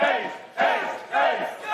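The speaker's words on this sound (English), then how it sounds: "Oh, the Swedes calling for an ace." Swedish poker fans at a tournament table chant in unison for an ace, loud crowd voices rising in three repeated surging calls, each swelling and fading in quick rhythm.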